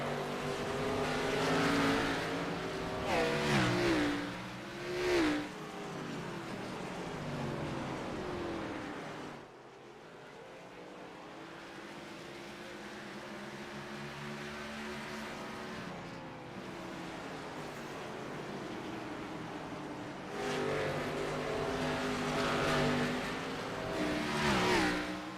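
ARCA race cars lapping Nashville Fairgrounds, engines roaring loud and near as the pack passes, then fading to a distant drone mid-lap before a second close, loud pass swells back in.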